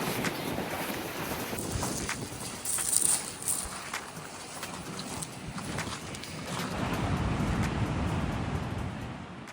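Large waves rumble and wash in and out on a black sand beach in Iceland, with gusty wind buffeting the microphone, the surf swelling louder toward the end.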